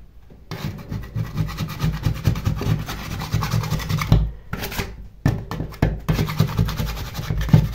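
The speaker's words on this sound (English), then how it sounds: "That's where the joint is at, so give that a good scrape." Scraper dragging across a painted ceiling joint above a staircase, a close, rough rasping in repeated short strokes with a few brief pauses between passes.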